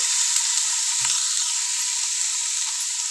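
Vegetables fry in oil for Maggi noodles, a steady close sizzle with soft occasional stirring, and no talking.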